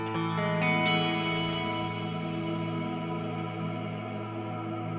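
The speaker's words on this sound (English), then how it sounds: "so it just swells the reverb sound" An electric guitar rings out through a reverb effects pedal, a sustained chord swelling into a wide, washy tail that lingers and slowly fades over several seconds, with a couple of brighter notes added early.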